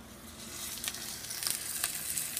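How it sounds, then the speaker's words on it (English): Food sizzling in a pan over a low flame, a steady soft crackle and hiss with a few brief sharper pops, fairly quiet and alone. "here's that sizzling going."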